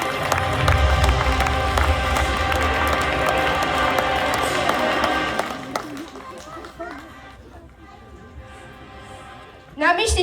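An audience applauds loudly for about five seconds amid crowd noise, then the clapping fades into a quieter room with scattered sounds and a brief loud burst near the end.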